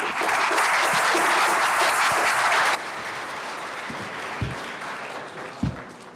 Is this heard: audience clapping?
yes